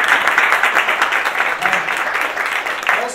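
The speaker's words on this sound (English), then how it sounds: "So let's just give them all some applause," Audience clapping for a panel of speakers at a zoo and conservation symposium, a steady, fairly loud wash of many hands that holds for about three seconds with little variation, no voices standing out.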